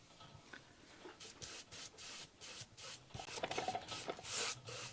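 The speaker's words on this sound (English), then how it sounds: "I'll put one more coat on the top before I get the sandpaper going." Sandpaper rubs over a painted decoupage piece in quiet, repeated rasping strokes, soft and close, growing a little busier toward the end with no talking.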